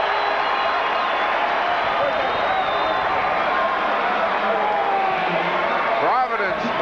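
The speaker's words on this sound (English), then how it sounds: "Listen to this crowd." A packed basketball arena crowd roars during a timeout in a college game between St. John's and Providence, a loud, steady wash of many voices and cheering that holds for several seconds.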